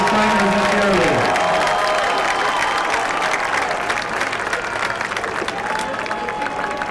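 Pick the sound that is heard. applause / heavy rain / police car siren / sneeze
applause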